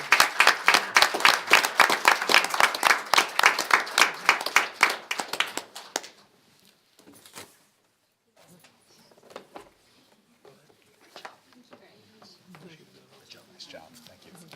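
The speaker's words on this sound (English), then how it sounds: "So how about one more round of applause for our senior colleagues?" Audience applause fills a school committee meeting room for about six seconds, dense and steady, then dies away into scattered small sounds and faint murmuring voices.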